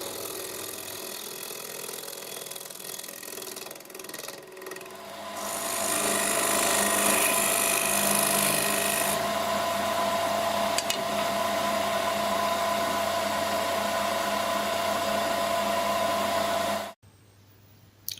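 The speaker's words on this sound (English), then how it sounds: "Just using a 3/8 crown tool bowl gouge there, just to get some shape into it" A 3/8 Crown Tool bowl gouge cuts into a spinning wood piece on a lathe. A steady, close rasping scrape grows louder after about five seconds, holds evenly, then stops abruptly near the end.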